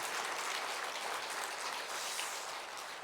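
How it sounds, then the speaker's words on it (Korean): A church congregation claps in welcome for a pastor during a Sunday worship service, a dense, steady wash of applause that stays loud and even throughout, with no voices over it. "환영의 박수로 맞이하겠습니다"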